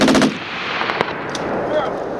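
A Marine Corps machine gun section fires on a 29 Palms live-fire range, opening with a rapid, loud burst of several rounds, then a few scattered shots and rolling echoes in the open air.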